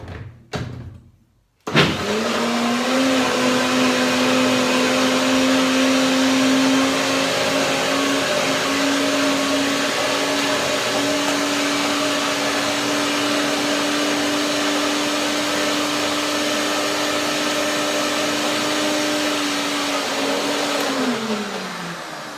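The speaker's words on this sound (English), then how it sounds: "So I will now do a little bit more blending." A kitchen blender whirs hazelnut cream for a tart in one long, loud, steady motor drone of about twenty seconds. A brief clatter comes first, and the pitch dips slightly as the motor winds down at the end.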